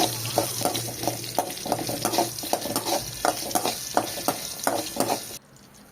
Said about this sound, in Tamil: ரெண்டு பச்சை மிளகா உடச்சி சேர்த்துக்கோங்க நல்லா வதக்கி விட்டுக்கோங்க